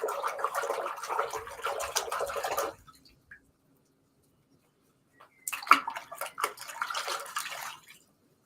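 A piece of red jasper stone is rinsed in water: two bursts of splashing and sloshing separated by a few seconds of near silence, close and moderately loud, with no talking.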